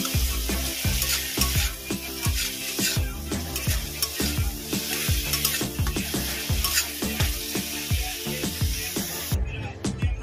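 Spice paste (masala) for eggplant jhunka frying in oil, a steady sizzle with repeated scraping and stirring knocks against the pan, close up and without talk.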